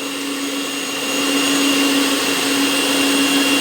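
An electric mixer whirs steadily through chocolate cake batter, a loud continuous motor drone with a fixed whine that swells slightly after the first second and holds without any talking.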